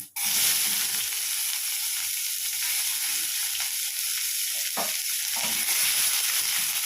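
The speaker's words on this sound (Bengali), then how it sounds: "পেঁয়াজটাকে আমি হালকা করে ভেজে নেব।" Chopped onion with a bay leaf, dried chilli and whole cumin frying in hot oil in a pan, a steady close sizzle and hiss with occasional stirring clatters, no voices.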